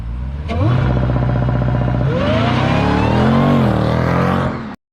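A supercharged Hellcat-powered Jeep Trackhawk launches hard at close range, its engine roaring loud and rising in pitch through a continuous rev that swells and holds before cutting off abruptly near the end.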